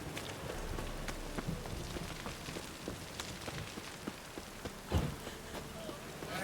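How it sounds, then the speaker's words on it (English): Steady rain pours down in The Witcher 3 video game, a continuous dense patter with scattered louder drops and one sharper splash partway through, heard alone. "It's raining again."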